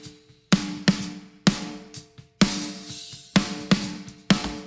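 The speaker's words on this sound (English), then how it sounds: "this is the snare sound." Mixed snare drum hits from a rock track, sharp and bright with a reverb tail, struck about nine times in an uneven pattern, alone and close with no talking.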